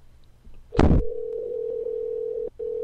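A steady telephone tone hums after a brief burst of noise, pausing once before resuming, as a phone call is placed to someone.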